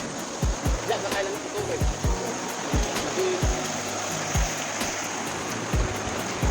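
Rushing river water flows in a steady broadband wash, with repeated soft thumps or knocks recurring through it and no clear voices.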